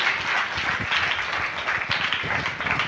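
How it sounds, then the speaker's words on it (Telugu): A church congregation applauds during a pastor's sermon, a thick, continuous wash of many hands clapping that sounds full and fairly close and holds steady for nearly three seconds. "చప్పట్లు కూడా దేవుని మహింపరచుదాం."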